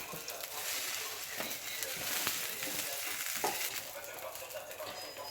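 Aubergines sizzle and crackle on an All-Clad grill pan, a steady bright frying hiss with small pops and stirring sounds, close and even throughout.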